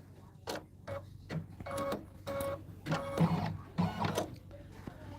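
Home embroidery machine stitching a line onto quilt block fabric, a rapid mechanical whirring and tapping that runs in short bursts with brief pauses, close and moderately loud with no talking.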